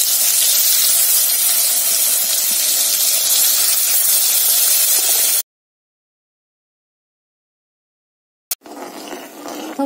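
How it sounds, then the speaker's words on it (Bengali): Oil sizzles loudly and steadily in a wok as eggplant is fried, a dense close hiss that cuts off abruptly midway, then returns faintly near the end. "কড়াতে তেল দিলাম, বেগুন ভাজবো"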